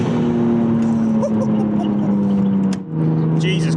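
A 450+ BHP Nissan R34 Skyline pulls hard at full throttle, its loud engine droning close and steady before a brief dip and a quick change in pitch, with voices talking over it.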